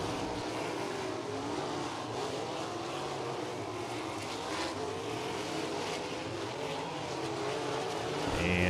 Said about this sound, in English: Drivers beginning to get things wound up here as we go to green in Dirt Draft Hot Lap session number